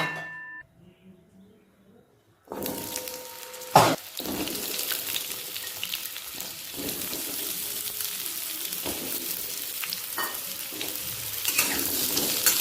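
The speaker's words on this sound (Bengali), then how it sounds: "প্রথমে কড়াতে সামান্য সর্ষের তেল দিয়ে আলুটাকে আগে একটু ভেজে নেব" Potatoes frying in a little mustard oil in a pan, a steady sizzle that starts after about two seconds of quiet and continues close and fairly loud, with occasional clatters of stirring on top.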